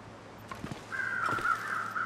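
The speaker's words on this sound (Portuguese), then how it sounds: "Tem alguns corvos ali" Crows in the wilderness survival game The Long Dark, a few harsh caws from moderately near, followed by a longer drawn-out call over quiet wind, with no speech.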